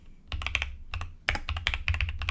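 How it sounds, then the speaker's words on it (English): Rapid typing on a computer keyboard, close and clear, with a short pause after an opening flurry and then quick uneven keystrokes again, with no voices. "go to a new browser, type in Ashley."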